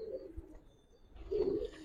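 Giribaz pigeons, a male and female pair, coo in two soft throaty bursts, one at the start and a louder one near the end, with a quiet pause between.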